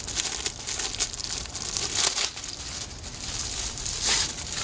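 Crinkling plastic bag being pulled off a fireproof document safe bag, steady close rustling and crackling with a few sharper tearing bursts throughout, no talking.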